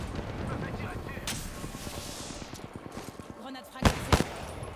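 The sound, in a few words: gunfire in the video game Apex Legends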